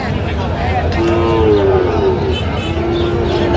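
Sahiwal calves mooing at a busy cattle market in Chattogram, several drawn-out moos rising and falling over a steady din of crowd noise and background voices.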